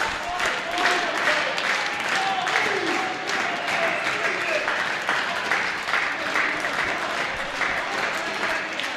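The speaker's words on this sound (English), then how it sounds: "right now, this crowd is hot and heavy" Wrestling arena crowd cheering and applauding during a match, a continuous dense roar of clapping and shouts, with voices talking over it.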